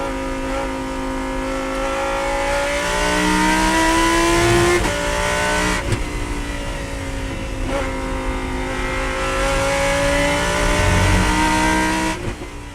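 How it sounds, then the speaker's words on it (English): A Lamborghini Huracan V10 race car screams at high revs on a circuit, close and loud, with rising gear pulls broken by sharp upshifts and downshifts over about thirteen seconds, no talking heard. "Don't want to talk too much over the beautiful sound of the V10 Lamborghini"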